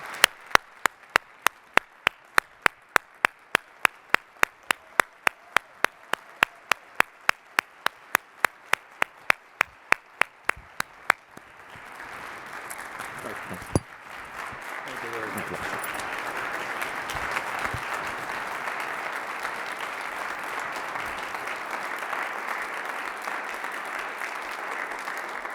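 An audience at a formal investiture ceremony breaks into sustained applause, a dense, steady wash of many clapping hands that holds at an even level; a series of sharp, regular clicks comes just before the clapping starts.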